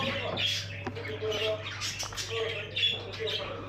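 Small cage birds chirp and squawk in short bursts, fairly close, over a steady low hum, in a bird breeding room with nesting pairs and chicks.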